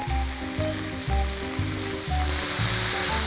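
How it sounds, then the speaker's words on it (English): Peas tumble into a pan of frying prosciutto and onions, a steady loud sizzle and crackle with rhythmic bursts of stirring and scraping throughout, no voices. "We're going to dump the peas right in."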